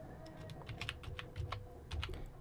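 Typing on a computer keyboard while entering a formula in an Excel spreadsheet: a quick, irregular run of close key clicks with small gaps, moderately loud and with no voice over it.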